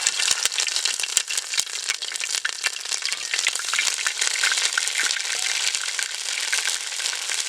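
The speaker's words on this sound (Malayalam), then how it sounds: "അപ്പം നമ്മളിനി കടുക് ഇടാൻ പോകും." Mustard seeds and curry leaves crackle and spit in hot oil, a dense, steady spluttering with sharp pops scattered throughout, close and loud with no talking.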